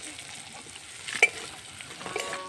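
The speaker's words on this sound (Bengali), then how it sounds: "পেঁয়াজটা দেখুন ভেজে নিলাম।" Onion and green chili with turmeric fry in a pan: a soft, steady sizzle with light stirring and one brief sharp utensil clink.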